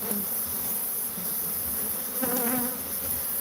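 A dense swarm of bees drones steadily around an established hive comb, a continuous close buzzing with individual bees swelling louder as they pass near; no talk.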